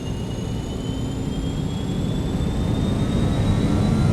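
Airliner jet engines in Microsoft Flight Simulator 2020 spooling up to takeoff thrust, a steady roar that swells gradually louder while rising turbine whines climb in pitch.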